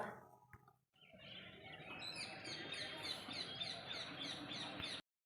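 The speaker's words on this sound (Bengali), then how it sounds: "সকাল সকাল পাখিদের কিচিমিচি আওয়াজও তোমাদের শোনালাম" Many birds chirp and twitter together at sunrise in the morning, a dense, steady chorus that runs for several seconds after a short soft noise at the start, with no talking.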